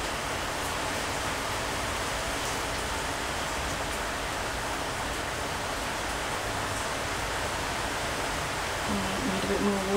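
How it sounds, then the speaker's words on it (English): Water sprayed across a mixed media collage page from a spray bottle, a steady soft hiss lasting throughout, close and fairly even, with a faint low voice near the end. "just going to spray some water all over these ones"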